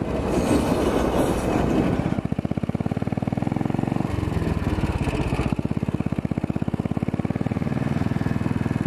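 A long freight train rumbles past in Tucson, Arizona, heard from a Royal Enfield Bullet motorcycle waiting nearby, with steady rolling clatter and engine drone close and loud throughout.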